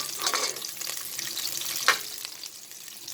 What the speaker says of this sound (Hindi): इस प्याज को मैं हल्का सा फ्राई करूँगी